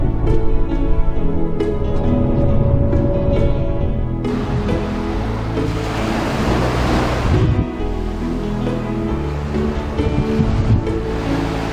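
Ocean surf rolling onto Sokcho Beach in Korea, a steady loud wash of breaking waves with wind buffeting the microphone, no voices.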